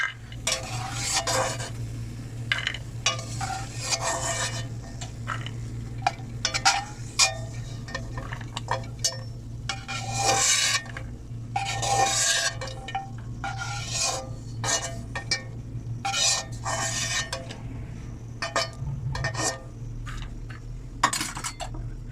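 Fried dry fruits for sweet zarda rice are scooped out of a pan, with repeated metal spoon scrapes and clinks against the cookware in an irregular rhythm over a low steady hum.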